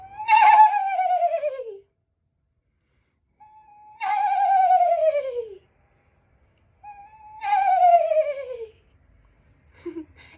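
A human voice imitates a horse neigh, giving three separate whinnying calls, each starting high and sliding down with a shaky tremolo, with pauses between them and a short fragment at the end.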